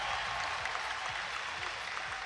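An arena crowd at a European women's gymnastics vault final applauds steadily, dense clapping filling the space without a break and with no talk over it.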